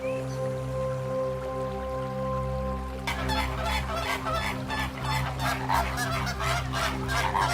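Flock of flamingos in the Congo giving repeated honking, goose-like calls, at first faint, then after a few seconds a busy chorus of overlapping honks in an irregular rhythm over a low background hum.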